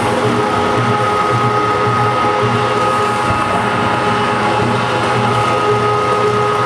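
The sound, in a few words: meat grinder grinding frozen venison and fat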